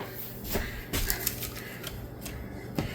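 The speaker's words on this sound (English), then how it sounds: "I'm going to take the same piece of duct tape, and this time I'm just going to cut out some stuff" Duct tape being cut for craft embellishments: a few sharp snips and crinkly tape sounds over a steady background hiss, close and fairly loud, with no voices.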